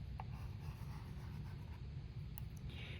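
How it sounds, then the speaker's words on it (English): A pen writing a name on paper, a close and continuous soft scratching with no voices. "after you write your name in the middle"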